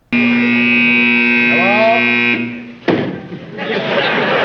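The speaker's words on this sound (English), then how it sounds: "a backstage crew member was unable to stop the house phone buzzer noise in time" A loud, steady electric house phone buzzer drones for about two seconds, then cuts off abruptly with a thump, followed by a burst of noisy clatter.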